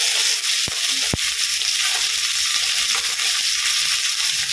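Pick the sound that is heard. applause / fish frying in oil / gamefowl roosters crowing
fish frying in oil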